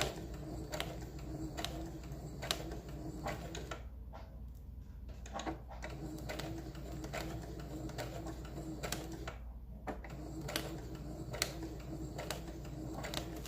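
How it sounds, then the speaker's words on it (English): A sewing machine stitches a paper zipper pouch for a traveler's notebook, giving a steady, close mechanical ticking and whirring that runs the whole time, with two short pauses where the stitching stops. "finish this out so I can stay where I want to be sewing"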